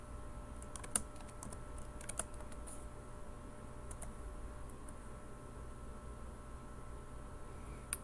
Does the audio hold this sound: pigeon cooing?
no